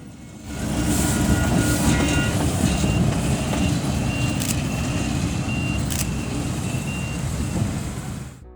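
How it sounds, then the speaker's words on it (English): A GE U10B diesel shunter locomotive rumbles loudly and steadily over the Hull Road West level crossing in Mount Maunganui, New Zealand, with high bell-like warning tones ringing above the engine noise. "we see DH2851, a GE U10B shunter, crossing Hull Road West crossing in Mount Maunganui"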